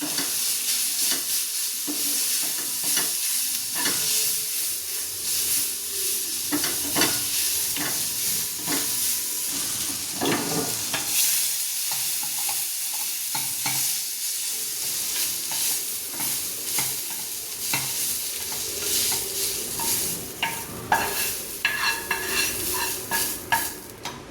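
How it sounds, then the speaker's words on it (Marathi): Cashews, green chilli, ginger, garlic and coriander sizzle with softened onion in a pan, with steady frying hiss broken by repeated scrapes and clinks of a spoon stirring, close and continuous. "आता मी याच्यात टाकते काजू, मिरची, आलं, लसूण आणि कोथिंबीर। त्याला आता 2 मिनिटं परतून घेते।"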